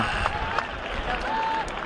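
Scattered applause from a crowd at an outdoor kabaddi match, light and fairly distant, a brief burst of clapping with general crowd murmur.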